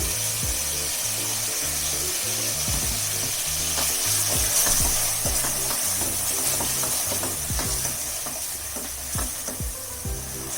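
Ground masala loosened with water is added to a hot pan for veg kuska and fried, with a strong sizzle and repeated rhythmic scraping stir strokes of a spoon across the pan, close up and without speech.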